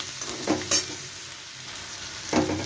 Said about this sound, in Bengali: রসুনটা একটু ভালো করে 2 থেকে 3 মিনিট ভেজে নেব